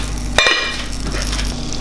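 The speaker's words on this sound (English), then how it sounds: "Butter is boiling now." Butter boiling in a pan for a roux with nutmeg and cream nearby: a steady frying sizzle with a single sharp clink of metal near the start, close and moderately loud.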